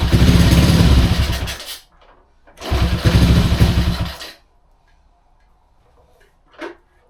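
A Honda C200 motorcycle cranks loudly in two long bursts of ragged mechanical clatter, with a pause between them, as the reluctant engine fails to catch. A brief faint tick follows near the end.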